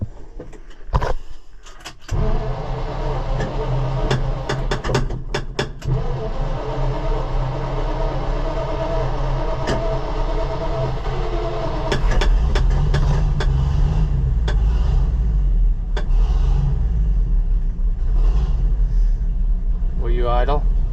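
A Ford L-Series truck engine cranks with a few jangling clicks, then catches and runs as a steady loud idle with a deep low hum, rising a little in the later part while someone talks over it.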